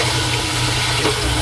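Water runs steadily from a tap while warming up for boot polishing, a loud, continuous rushing splash close at hand with no talking over it.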